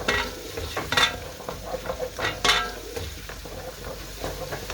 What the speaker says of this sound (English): I'm just gonna give them a quick stir